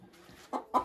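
A hen clucks in a henhouse, two short soft clucks spaced a quarter second apart, close and alone against quiet background.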